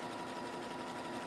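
Sewing machine running a short test stitch: a brief, steady, close mechanical hum with rapid needle rhythm and no voice.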